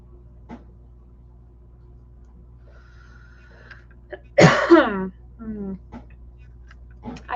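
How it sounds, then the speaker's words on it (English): A person with winter allergies and post-nasal drip lets out a single sharp, loud cough-like burst that trails off, set in a quiet room with a few faint clicks and murmurs around it. "that makes me cough, especially like when going outside and it's cold, and I just start like hacking"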